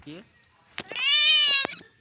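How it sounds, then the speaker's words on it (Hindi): A cat meows twice close up, a short call followed by a longer, drawn-out meow, with a soft rustle between them. "ये मेरी बिल्ली है"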